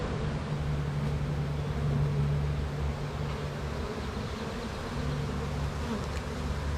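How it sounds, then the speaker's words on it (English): Honey bees inside an open hive producing a dense, steady, close buzzing drone that continues without a break and with no voices. "there's an awful lot of bees in here"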